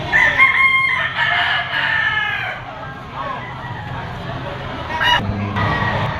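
Roosters crowing repeatedly at a chicken auction market in Lipa, loud calls at the start and again near the end, with people talking in the background.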